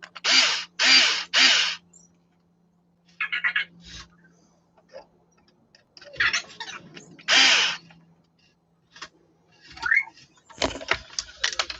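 A power drill drives stubborn screws in short, loud bursts, three quick whirs at first and then more spaced runs with pauses and a faint hum between them.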